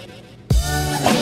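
A single sudden sneeze bursts out halfway through, a sharp explosive onset followed by a breathy rush, heard close over quiet room noise.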